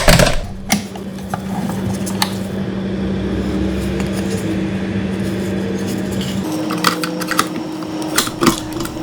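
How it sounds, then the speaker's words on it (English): Releasing an SSD from a hard drive docking station produces a few sharp mechanical clicks and a rattle over a low steady hum, with a cluster of louder clicks near the end. "that is the button to release the SSD"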